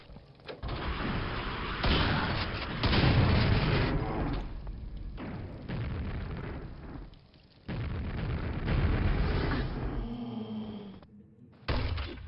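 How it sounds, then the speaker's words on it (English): Rocket launcher explosions in Quake on a brutalist-themed custom map, several loud booming blasts in succession separated by short quieter gaps, with mechanical clatter between them. "Oh, we have a cool rocket launcher."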